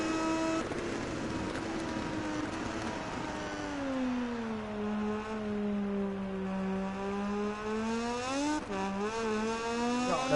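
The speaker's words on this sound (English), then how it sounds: "I'm gonna try a little bit of engine braking, see if that helps slowing down." A Moto2 bike in the MotoGP 19 game engine-brakes at Motegi. A sustained engine tone sinks in pitch as the bike slows, then briefly blips upward near the end, loud and continuous with no talk.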